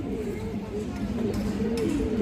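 Red pigeons in a loft coo in low, throaty rolling phrases, moderately close, beneath a steady background hum and some indistinct voices.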